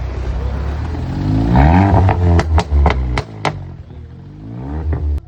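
The engine of a Volkswagen Golf 7 hybrid, a manual car, revs up loud and close in a rising rumble, then drops back with clattering mechanical noise and a few sharp clicks, and rises again near the end.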